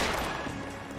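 Gunfire in the crime game L.A. Noire crackles as a dense, steady burst of overlapping shots, fairly faint and continuous across a brief moment.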